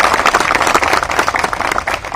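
An audience applauds to welcome a minister at a teachers' gathering in Lucknow, dense and loud steady clapping from many hands throughout, with no speech.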